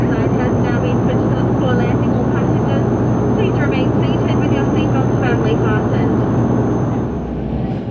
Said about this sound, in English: In terms of the engine noise, I believe Dash 8 is slightly quieter.